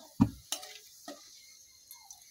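Three bay leaves stirred in hot oil in a pan, a few soft separate scrapes and knocks of the spoon with a faint sizzle underneath, close by and without talk.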